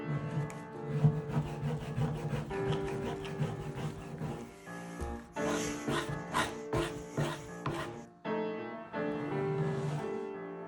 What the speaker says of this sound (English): So let's get to scraping it.